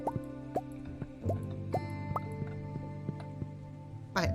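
Watering a cat's water bowl in Stardew Valley: a series of about eight bright, evenly spaced game drip and plop sounds over steady background music, ending in a short splashy burst.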